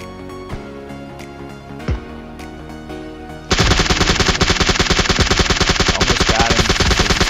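Rapid automatic gunfire in PUBG Mobile erupts halfway through, a loud, dense, continuous burst following a quieter stretch with a couple of isolated single shots.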